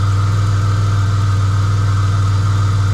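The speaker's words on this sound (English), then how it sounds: "How quiet this one, how good the engine is." A Ford AU XR6 ute engine idles steadily and smoothly up close, a constant low hum with no talking.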